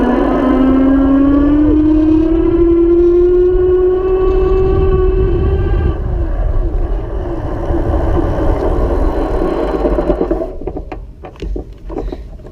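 A Pedego Platinum Interceptor premium cruiser electric bicycle rides with a steady rising motor whine and wind rush, then slows and rattles as the brakes are tested near the end; no talking.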